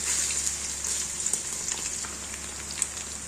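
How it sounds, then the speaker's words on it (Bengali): Paneer cubes fry gently in hot salted white oil, a soft steady hiss with light scattered crackles, close but fairly quiet, no voices. "হালকা করে পনিরগুলো ভেজে নেব।"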